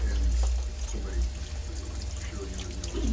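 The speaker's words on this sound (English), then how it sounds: "I'm going to increase that water flow just a tad." Water rushes steadily through a gold prospecting sluice, a continuous close pouring and trickling wash over a low rumble with no break.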